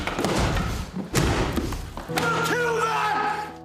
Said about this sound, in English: they made those pieces with the knowledge that they were going to be smashed to bits